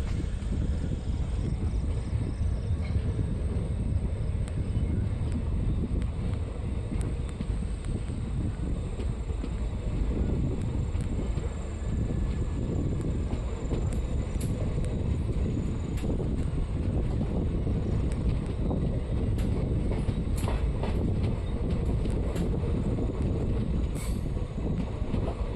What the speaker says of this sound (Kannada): ನಮ್ಮ ಟ್ರೈನು ಹರಪನಹಳ್ಳಿಯಿಂದ ಹೊರಟಿದೆ